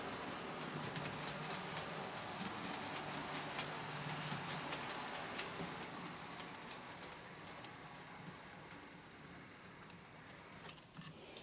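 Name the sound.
model underground train running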